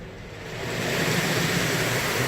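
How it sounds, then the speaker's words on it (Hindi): Water from a touchless laser car wash showers down like rain over a car after the polish step, a steady broad hiss that swells slightly and holds, with no voices. "तो बारिश वाला पानी गिर दिया इन्होंने"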